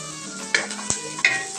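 Ginger dropped into a pan of frying onions, a steady soft sizzle broken by a few sharp stirring scrapes and clicks, close and alone with no talk.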